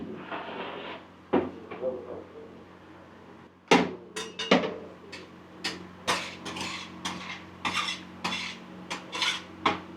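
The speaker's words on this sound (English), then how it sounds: "the chef here, is stirring that rice into that meat." A ladle clanks and scrapes against a large wood-fired pot as rice is stirred into mutton for village palav, sharp metallic knocks repeating irregularly over low background hum and faint voices.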